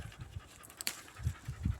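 A happy dog pants in quick, soft breaths outdoors, close but faint, with a brief rustle in the middle.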